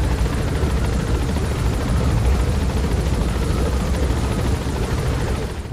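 A helicopter in the video game Metal Gear Solid 5 flies steadily, its loud rotor thrum and engine roar continuous and close throughout, with no talk.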